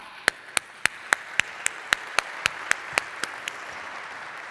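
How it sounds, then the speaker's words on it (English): One person's sharp, evenly spaced hand claps, about twelve in a row, ring out in a conference hall with a faint room hum beneath and no talking. "Let's clap."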